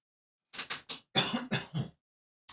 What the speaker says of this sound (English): Pardon me, I've got a cough.